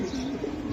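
Giribaz pigeons coo in a low, steady murmur that runs through the short moment, close by and fairly loud, with no talking.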